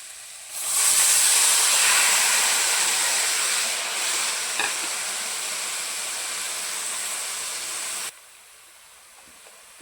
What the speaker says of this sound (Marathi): तर त्याच्यामध्ये भिजलेली कांदा पात टाकून घेऊया